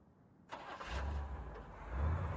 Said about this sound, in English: Then a car starting.